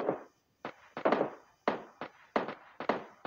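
Gunfire from PUBG Lite sounds as a series of about eight sharp, punchy shots in irregular bursts, fairly close and with no voices over them.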